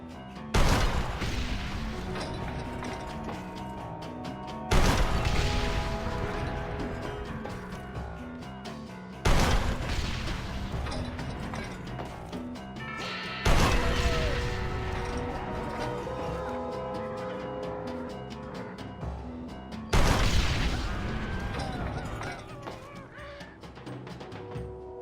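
Heavy gunfire in the Red Dead Redemption video game during a battle at the gates of El Presidio, coming as five loud booming volleys a few seconds apart, each trailing off into a rumbling decay.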